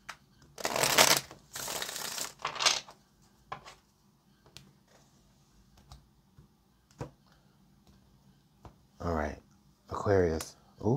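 A tarot card deck is shuffled close up in loud bursts, the riffle and cascade sounds coming in a few separate rounds, with light taps and clicks between them and brief speech near the end.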